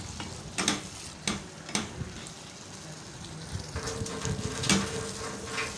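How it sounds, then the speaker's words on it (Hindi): Lobia beans frying in a pan with crushed red chilli, garlic and tomato, a steady low sizzle broken by periodic scraping knocks of a spoon stirring the mixture. "और अब इसे अच्छे से हम भून लेंगे।"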